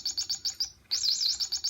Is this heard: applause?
no